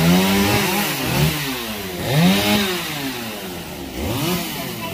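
A chainsaw runs loud and close while felling a tall, many-branched tree near a house, its engine rising and falling in repeated revving surges as the cut progresses, with no voices over it.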